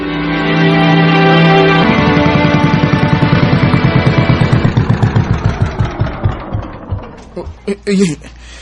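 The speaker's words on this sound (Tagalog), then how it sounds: "Nagkaproblema man ang makina sa pambot. Patay-patay man ang andar." A boat engine with a fault runs loud and steady, then sputters, its rhythmic chugging slowing and breaking up before it dies out.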